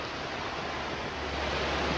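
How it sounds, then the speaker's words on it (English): Kanaka Creek flows in a park setting as a steady, broad rush of water. It stays close and even, with no voices over it. "The creek."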